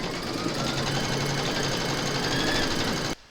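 A computerized embroidery machine stitches a placement outline in red thread for a poppy mug rug, a steady rapid mechanical chatter that runs evenly and close throughout, then stops abruptly near the end.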